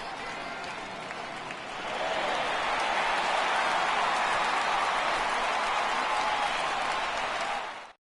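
A home crowd in a baseball video game gives a standing ovation to a departing pitcher after a shutout. The applause and cheering start moderate and swell into a loud, sustained roar before cutting off abruptly.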